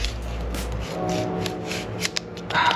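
Protective film being peeled off a gold full REVO ski goggle lens, a soft crackling rub with a few sharp ticks and a brief louder rustle near the end, close and alone.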